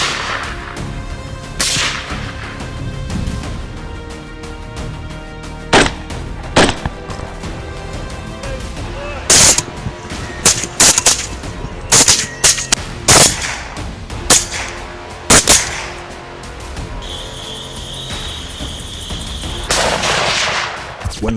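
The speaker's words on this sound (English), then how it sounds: "We took positions, firing with calm precision." Rifle gunshots during a wild boar hunt, a series of sharp loud cracks spaced irregularly, some in quick pairs, over a dense rumbling background.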